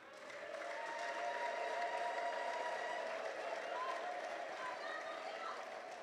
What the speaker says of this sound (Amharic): ላደረገልን እልልታ፣ ላደረገልን ጭብጨባ ይገባዋል።